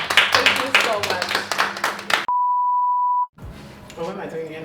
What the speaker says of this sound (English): Should we round of applause?